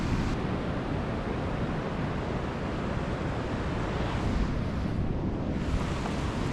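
Ocean surf at a beach in Popoyo, Nicaragua, with a jumbled sea after a night storm: a steady, loud roar of breaking waves mixed with wind rumble on the microphone, no voices.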